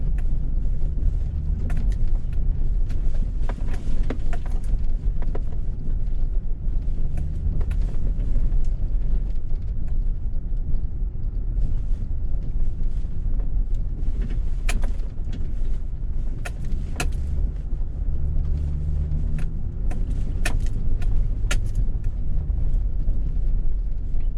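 A Honda Civic Type R driving over a rough off-road track, with a continuous low rumble of engine and road noise and frequent sharp knocks and rattles from the suspension and body over bumps.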